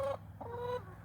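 Hens cluck in short, rising calls close by inside a homemade backyard coop and run, two or three quick notes in a quiet setting.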